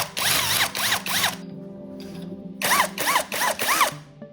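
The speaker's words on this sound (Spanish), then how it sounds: "Y perforamos con una broca de 1/4." A power drill with a 1/4-inch bit bores holes in metal tubing for a flame-powered refrigerator, sounding as loud, close bursts of whining drilling separated by short pauses.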